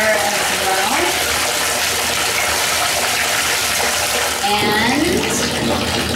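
A bathtub tap runs steadily, a loud close gush of water filling the tub, with a voice briefly speaking over it.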